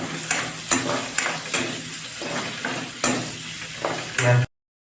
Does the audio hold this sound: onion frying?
yes